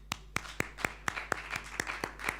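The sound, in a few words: audience clapping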